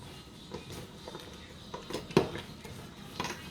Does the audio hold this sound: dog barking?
no